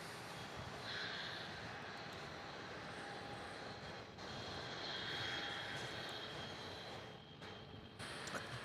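Airbus A320neo jet engines at Melbourne Airport, a faint, distant, steady roar with slow swells in intensity, no voices.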